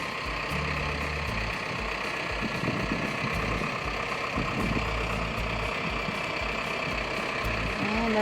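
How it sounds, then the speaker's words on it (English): A heavy tractor engine rumbles steadily throughout, loud and close, with clanks and mechanical knocking over the low drone, during a pole barn raising. "So now he's just moving the tractor"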